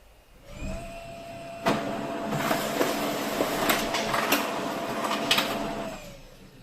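A Xerox 3335/3345 printer runs off a PDF job sent from a phone, its steady mechanical whir and feed clatter holding for several seconds with a few sharper clicks, close and fairly loud, no talking.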